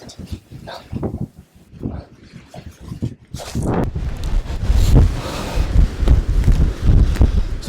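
Strong gusts buffet the microphone and tents during high wind testing of Hilleberg Akto and Soulo RL one-person tents, a rough rumbling roar that swells and persists while someone talks.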